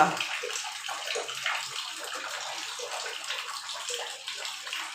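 Running water steadily filling a child's bath at home, a continuous soft splashing rush that holds at an even, moderate level with no talk over it.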